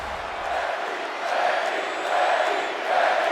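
A wrestling arena crowd in Atlanta roars and cheers in a dense, continuous wash of voices, swelling in waves at a WWE Fastlane event.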